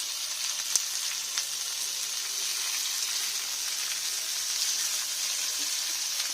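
Onion and garlic frying with greens in a pan for a red amaranth dish, a steady bright sizzle throughout with a few sharp pops and stirring clinks, no voices.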